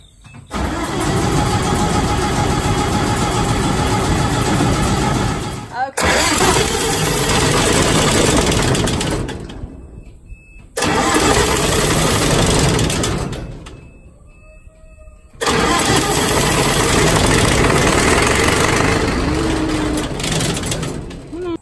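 A Gleaner combine engine cranks in long grinding bursts of several seconds each, with short pauses between them, loud and close, as starter fluid is used to get it to start. A voice is heard at times beneath the cranking.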